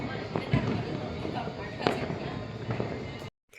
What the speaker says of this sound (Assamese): সেইকাৰণে চাৰিওপিনে ফটকা ফুটিছে